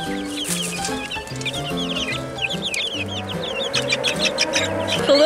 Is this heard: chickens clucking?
yes